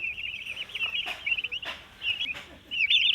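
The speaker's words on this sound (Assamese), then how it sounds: "এয়া টাৰ্কি পোৱালি।" Young turkey chicks at home peeping and calling in a rapid chirping series, with a few short thumps and rustles in between, close by.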